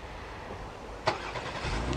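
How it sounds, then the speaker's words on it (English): A 2019 Honda Pilot SUV engine starts by remote start, giving a single brief crank burst followed by a steady idle hum, heard alone and close by. "All you have to do is the remote start, press the lock button twice, push and hold the remote start."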